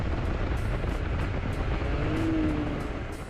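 A 2020 Can-Am Maverick X3 X RC off-road vehicle is driven hard, its engine roaring loud and continuous up close under heavy rumble, with rhythmic bumps from the terrain.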